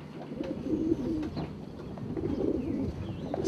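Pigeons coo in a loft, several soft, low, rolling calls repeating and overlapping at close range over a steady background murmur.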